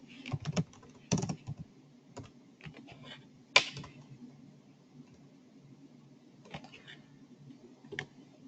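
Irregular keystrokes on a computer keyboard, scattered sharp clicks with short pauses between bursts over a faint background hum, close and quiet.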